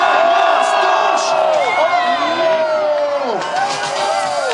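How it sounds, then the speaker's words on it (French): A crowd at a Formula Drift Canada qualifying event cheers, whoops and shouts loudly and without a break, with voices rising and falling close by. "grosse main d'applaudissements"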